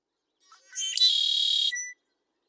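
A male red-winged blackbird gives its song, with a few soft introductory notes followed by a loud, buzzy, trilled phrase about a second long, heard alone against silence.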